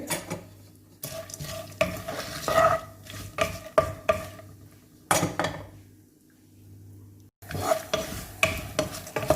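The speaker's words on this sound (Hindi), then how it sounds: "इसी कढ़ाई में ये कटे हुए बादाम और ये काजू, ये दोनों को इसमें रोस्ट कर लेंगे।" Chopped almonds and cashews roasting in a kadai, with a spoon scraping and clinking against the metal in busy bursts over a low sizzle, a short quiet pause, then brisk stirring again.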